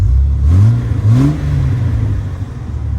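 A turbocharged 2JZ engine in a Jeep revs twice in quick succession with a deep exhaust rumble, then settles into a steady low drone, loud and close with no talking.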